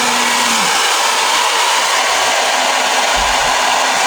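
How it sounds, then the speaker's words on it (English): Loud steady roar of a blow dryer on its hottest, high setting, constant whooshing airflow with a faint whine, running alone without talk. "make sure your blow dryer is on the hottest setting"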